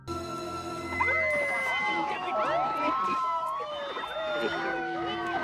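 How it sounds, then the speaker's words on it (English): A wailing police siren sweeps up and down over a busy, layered background, with voices and other sounds mixed in. "As he walked past the police cars, a siren suddenly went off."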